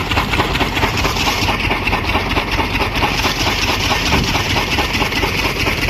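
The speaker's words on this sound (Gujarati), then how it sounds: "હવે નાખી દે હલરમાં હલર કરી દે ચાલુ" A diesel-powered huller threshing machine running in a village, a loud, close, steady engine drone with a constant rapid mechanical chugging, unbroken throughout with no talk.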